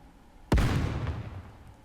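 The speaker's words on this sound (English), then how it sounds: "A series of explosions erupt out of Behemoth's abdomen and head." Explosions burst from a character's body in the video game Nikke: one sudden loud blast with a deep, booming onset, followed by a long rumbling decay with scattered crackles.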